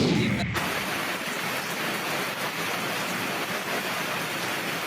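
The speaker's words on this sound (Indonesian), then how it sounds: "Diguyur hujan deras selama beberapa jam," Heavy rain pouring down steadily for the whole stretch, a dense, loud broadband hiss with no pauses, following a brief quieter moment at the very start; no voices are heard.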